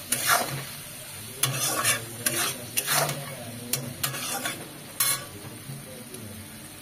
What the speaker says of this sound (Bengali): একটু নুন হলুদ দিয়ে ভেজে নিতে হবে।